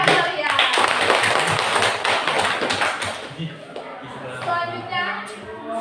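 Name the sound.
audience applause at a school debate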